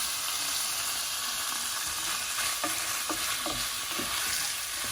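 Salmon fries in a pan for creamy tagliatelle, giving a dense, continuous close sizzle with occasional soft knocks of stirring, and no one speaking.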